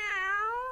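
A cartoon cat in a Doraemon episode gives a single drawn-out meow, close and clear with a gently wavering pitch, heard alone.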